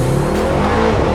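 A Mercedes GT63s AMG, rebuilt after being wrecked, accelerates hard with a loud, steady engine roar that rises slightly in pitch, close and without talk.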